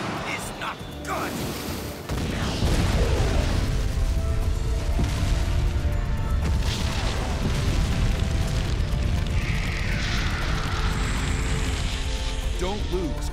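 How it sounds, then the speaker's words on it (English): Two flame bomb explosions in the Naruto Ultimate Ninja Storm video game, a sharp burst followed by heavy booming, crackling fire effects, with game sound effects and a player talking over them. "Fire stuff! Two flame bombs!"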